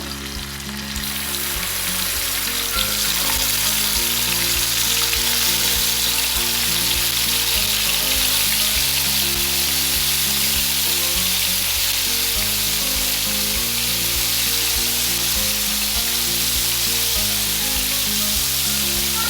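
Chicken pieces frying in butter for butter chicken make a loud, continuous close-up sizzle that settles in after a quieter first second, with a low droning tone running beneath it.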